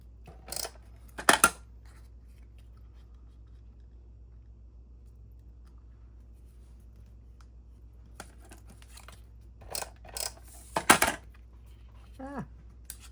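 Scissors snip a small paper arrow cutout, giving a few brief, crisp cuts separated by long quiet gaps, close and fairly clear, with a short voice sound at the end.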